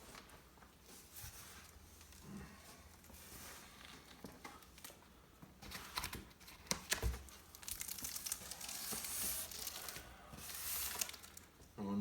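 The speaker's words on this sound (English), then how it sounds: "Cutting this tape away pretty easily" Packing tape being cut and peeled off a cardboard shipping box holding a Celestron NextStar Evolution 6 telescope, heard as close, quiet crinkling and tearing scrapes that come in bursts and grow busier and louder toward the end.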